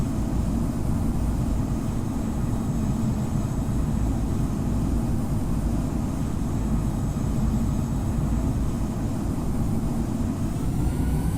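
Simulated Egypt Air airliner rolling for takeoff on runway 05 left at Punta Cana in the Infinite Flight game, a steady loud roar of jet engines sustained evenly throughout with no talking.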